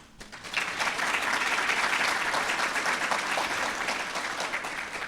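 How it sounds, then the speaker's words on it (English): An audience at a CPO BRC 605 graduation ceremony bursts into sustained applause, dense steady clapping from a large crowd that swells quickly and carries on for several seconds. "Proud family members, give you a round of applause."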